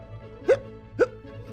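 Two short, sharp hiccup sounds about half a second apart, a human voice imitating a captive bear's hiccups.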